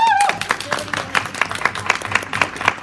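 An audience applauds a woman called up on stage at a live performance, a steady patter of clapping hands with a few whoops mixed in.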